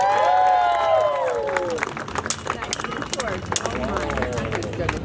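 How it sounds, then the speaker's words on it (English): A crowd gathered around a street performer in Key West claps and cheers for a volunteer, the applause crackling loudly over an amplified voice and background music. "Everybody give Chad a big hand."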